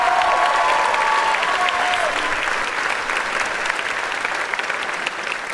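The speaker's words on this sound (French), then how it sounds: "On peut applaudir bien fort Louise Guillaume, s'il vous plaît." An audience at a live stage show breaks into sustained applause, a dense, steady wash of many hands clapping that stays strong and gradually eases slightly, with brief voices mixed in.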